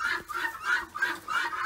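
Backyard hens cluck busily in their pen in the evening, a close run of short rhythmic clucks repeating several times in quick succession.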